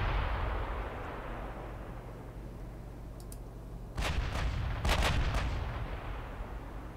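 Warship guns fire in Ultimate Admiral Dreadnoughts, a British 1900-era fleet at full speed in bad weather: a low rumbling background broken by a tight cluster of four or five heavy booming shots.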